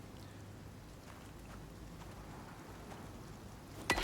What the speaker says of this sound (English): We are getting rain, which is interesting. It's raining through the rock.